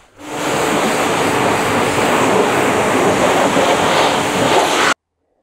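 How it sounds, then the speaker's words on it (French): Water rinses a car during a wash-kit test as a steady, loud, close hiss of spray that runs for several seconds and then cuts off abruptly. "Bon, il est temps de rincer tout ça."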